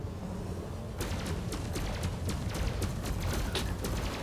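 Spaceship weapons fire in Elite: Dangerous: a steady stream of rapid bursts over a constant low engine rumble, starting after a second of hum alone and continuing to the end.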